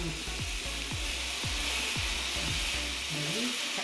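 Butter sizzles and fries steadily on a hot dosa griddle for millet dosa, a dense close crackle punctuated by a few soft scraping strokes, with no talk.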